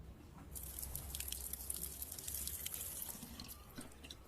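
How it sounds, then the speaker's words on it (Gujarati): Water runs from a household tap in a steady, close hiss that starts after a brief quiet moment and continues without a break, with no voices. "હવે ભાઈ વિચારે છે કે હવે તો આ બંધ કરું તો શું થાય, નળમાંથી પાણી નીકળે."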